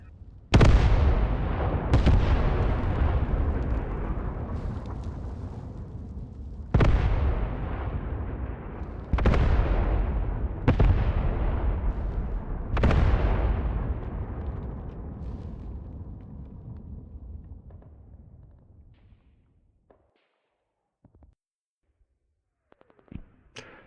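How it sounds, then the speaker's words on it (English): Wehrmacht artillery bombardment in the video game Graviteam Tactics: Pivot Point: about six heavy booms spaced a few seconds apart, each followed by a long rumbling decay, fading into near silence at the end. "Wehrmacht's got a little bombardment going on its own."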